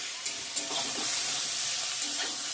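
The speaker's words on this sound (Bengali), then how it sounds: "ভাজা ভাজা হয়ে গেছে, তেল ছেড়ে দিয়েছে।" Egg curry masala fries in oil in a home kitchen pan, a steady broadband sizzle with a few soft stirring clicks, close and continuous with no voices.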